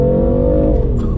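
A Stage 1 tuned BMW engine accelerates hard, its loud, steady growl rising in pitch before shifting, heard close up from inside the car with no talking.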